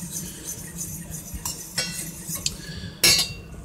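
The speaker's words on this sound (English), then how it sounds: "Just keep stirring to the whole thing will be better" A spoon scrapes and clinks against a pot while a thickening white sauce of milk is stirred, with scattered light metallic taps and one sharper clank near the end over a low background hum.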